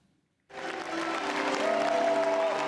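Thunderous applause for French film star Jean-Paul Belmondo as a curtain opens: silence, then a sudden full burst of dense clapping from a large crowd that swells and holds loud.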